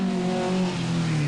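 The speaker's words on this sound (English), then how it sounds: "George Hill's Chevette tackles Knowsley's monkey enclosure." George Hill's Chevette rally car at Knowsley during the 1981 World Rally Championship drones with a loud, steady engine note whose pitch sags slightly over a brief moment.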